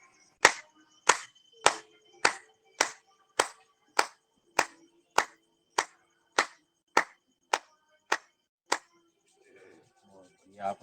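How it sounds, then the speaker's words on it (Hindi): About fifteen sharp hand claps in a steady, even rhythm during a yoga session, loud and close, followed by soft rubbing of the palms at the end. "अब ताली बजा लेते हैं 15 बार।"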